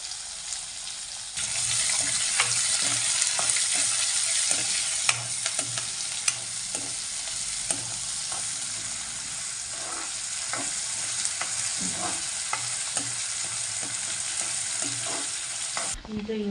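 Curry leaves and onion frying in hot tempering oil for a chayote palya make a continuous close sizzle. Scattered clinks and scrapes of stirring run through it, with no talk.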